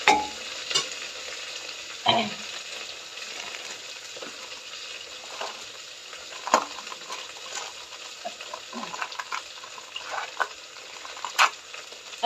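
Cauliflower sizzles and fries steadily in a pan with spices, a low continuous crackle broken by occasional sharp clinks and stirring scrapes, no voices over it.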